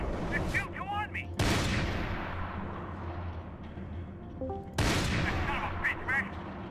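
Gunfire in the Max Payne video game: two loud, sharp bursts of shots, each followed by a decaying echo. Other game sound and brief chatter sit beneath them.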